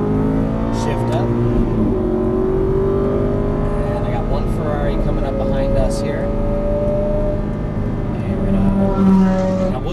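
An Aston Martin V8 Vantage accelerates on a track, its V8 engine note climbing in pitch through the revs, loud and close, while someone talks over it.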